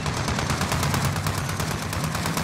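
Rapid, steady turret machine-gun fire in a video game rattles on continuously for the whole stretch, loud and close, with even, fast repeating shots and no talk.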